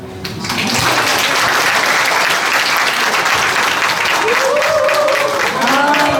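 Audience applauding at a book launch celebration, a steady, full wash of clapping from a sizable crowd that builds quickly and holds loud throughout, with a few faint tonal sounds rising through it near the end.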